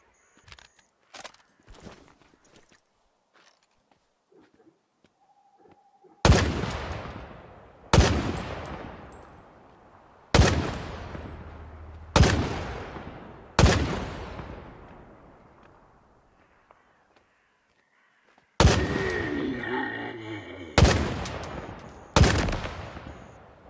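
Gunfire in Stalker 2: Heart of Chornobyl, starting with scattered faint shots, then a series of loud, sharp single reports spaced a second or two apart, each ringing out with a long echoing tail, ending in a closer cluster.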